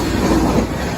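British Rail Class 197 diesel unit rolling over the Ferryside station level crossing in Carmarthenshire, a loud, steady close rumble of wheels on rail with faint clickety-clack, continuous throughout.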